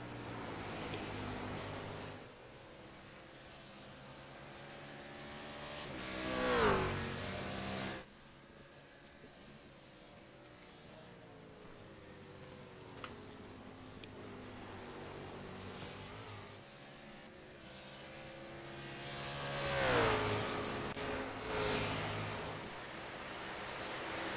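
GT race cars lap Watkins Glen in a racing video game, engines droning at moderate level with two distinct passes swelling and fading as cars whoosh by, pitch sweeping up then down.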